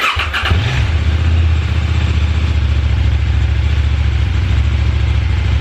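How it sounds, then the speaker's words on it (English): A KTM Duke 790 motorcycle engine fires up and settles into a steady, loud, low rumbling exhaust idle that carries on without a break. "let me turn on the bike so that you guys can hear the exhaust note."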